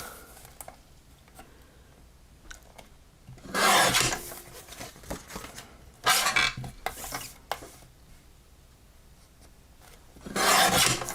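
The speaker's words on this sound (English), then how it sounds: "I'm going to cut the front of the card off as always. And then I'm going to trim these two edges off." Paper card being trimmed at a craft table: three separate rasping strokes, each a second or so long, with quiet rustling and small handling clicks in between and no talking.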